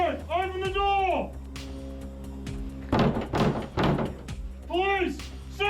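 Police banging on a door during a search warrant raid, with a cluster of heavy thuds and knocks between loud shouted commands from officers.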